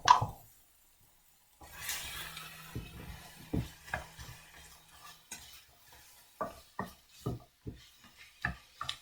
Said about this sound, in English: I'm going to add in my garlic